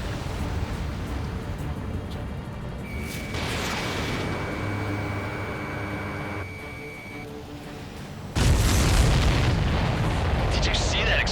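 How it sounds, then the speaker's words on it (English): In the flight combat game Ace Combat 7, a supply ship blows up with a sudden loud, rumbling blast near the end. Steady jet and wind roar runs underneath beforehand. "Did you see that explosion?"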